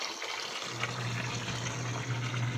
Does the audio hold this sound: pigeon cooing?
no